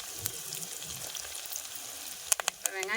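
Garlic, some crushed and some whole, frying in oil in a pan for a Tamil fish curry, a soft steady sizzle close by with a few sharp clatters and spits near the end.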